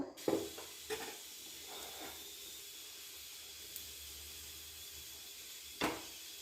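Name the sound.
urad dal and chana dal frying in oil in a pressure cooker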